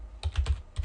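A few quick keystrokes on a computer keyboard, soft close clicks in a short burst with no talking.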